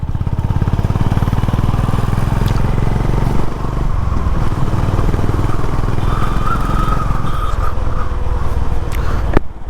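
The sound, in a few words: Honda CB350 motorcycle engine accelerating in gear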